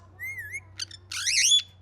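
A pet parrot whistles close by in a home near Islamabad, a sliding tonal note followed by short chirps and a louder warbling whistle, over a low steady hum.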